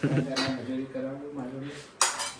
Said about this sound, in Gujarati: ખાલી ચમચો હલાવાઈ જવાનું બસ.